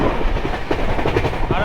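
Interior of the Akal Takht Express running at 130 km/h, a loud continuous roar with rhythmic rattling of the carriage over the rails.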